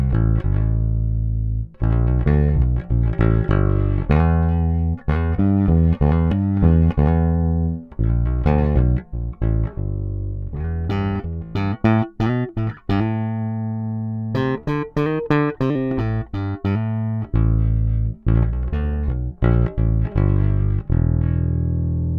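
Lakland Skyline 44-64 Geezer Butler signature PJ bass played on its neck pickup, a loud, close line of sustained and repeated notes with some quick staccato runs, alone with no talk.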